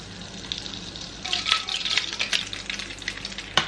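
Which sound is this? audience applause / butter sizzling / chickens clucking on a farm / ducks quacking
butter sizzling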